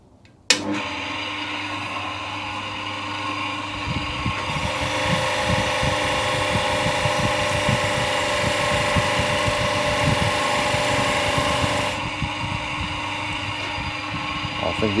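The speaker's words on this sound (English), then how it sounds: "the coarse wheel is going to rip into it and get the rest of it off" Coarse grinding wheel ripping flaking chrome off a Royal Enfield Bobber motorcycle part, a loud sustained motor roar with rough, gritty grinding, close by. It starts abruptly and continues steadily, easing back toward the end.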